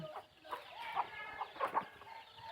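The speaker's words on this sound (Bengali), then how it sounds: "এই যে এই যে দেখতেছেন যেটা বড় মোরগ" Chickens and a large rooster cluck nearby in a farm enclosure, with soft, irregular calls scattered across the moment.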